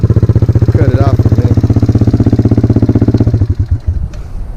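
A 1991 Yamaha Moto-4 250 four-wheeler engine runs loud and close at a steady, rapid putter, then sputters and winds down as it is shut off near the end.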